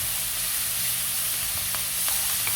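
Steady, loud sizzling of aromatics frying in a cooker for stuffed karela in coconut curry, a continuous hiss with a few faint stirring clicks near the end.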